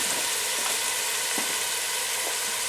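Green pepper and onion sizzling in olive oil in a pan, a steady loud frying hiss with faint crackles, close up and with no talking.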